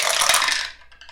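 Dice rolling in a Samurai Battles board game: a brief, bright clatter of dice that quickly fades into a few small, faint rattles.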